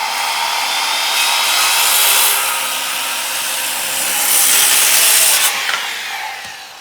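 A handsaw cuts through a wooden board for an indoor swing, giving close, steady rasping strokes that swell and ease over several seconds.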